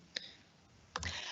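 Computer keyboard keys click faintly, two short taps about a second apart in a quiet room, with no one talking.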